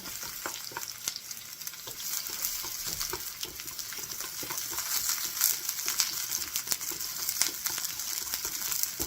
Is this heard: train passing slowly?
no